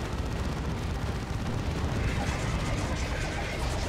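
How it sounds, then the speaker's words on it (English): A Baneblade tank fires in a Dawn of War 2 Retribution 3v3 match, its booming cannon and battle noise forming a dense, continuous rumble with no clear gaps. "Baneblade still shooting away."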